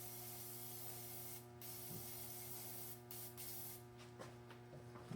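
Liquid Wrench penetrating oil is sprayed into a Chevrolet 350 engine being rebuilt, in several short, faint hissing bursts with quiet pauses between them.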